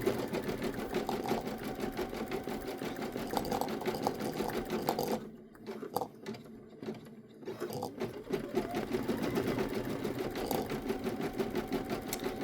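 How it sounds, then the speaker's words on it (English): An embroidery machine stitches candle wick stitches into vinyl for a luggage tag, its fast steady needle chatter running close and continuous, with a brief quieter lull midway. "Now when this stitches out, these are what's called candle wick stitches for the wheels."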